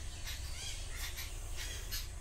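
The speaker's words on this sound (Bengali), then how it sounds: "দেখছো কত পাখি আসছে" Birds squawking after rain as they come to feed on insects, with repeated harsh calls over a steady outdoor background.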